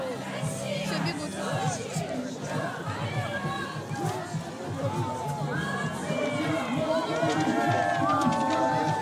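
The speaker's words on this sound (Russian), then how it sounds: "Все бегут." A crowd runs along a city street during an Olympic torch relay in Belgorod, a continuous din of many voices, shouting and cheering with hurried footsteps beneath, holding steady throughout.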